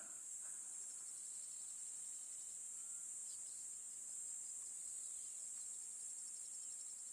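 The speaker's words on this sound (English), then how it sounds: "So we've got the cicadas already." Cicadas call outdoors in a continuous high, shrill buzzing drone that holds steady at a moderate level throughout, with no voices.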